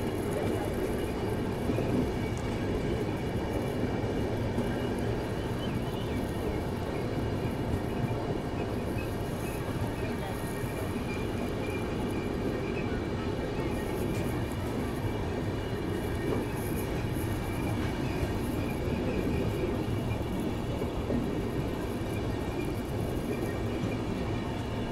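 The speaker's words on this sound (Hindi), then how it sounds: "देख रहे हो स्पीड आप, ये दुरंतो काफ़ी तेज़ हो सकती है इंडियन रेलवेज़ में" The Delhi–Mumbai Duronto Express runs at speed on Indian Railways, heard from inside a first-class AC coach as a steady, loud rumble with continuous wheel noise and faint rhythmic clatter, unbroken from start to end.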